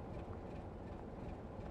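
Train in Train Sim World on the West Somerset Railway, a low steady rumble of rolling stock with faint rhythmic clatter, even and continuous throughout, with no voices.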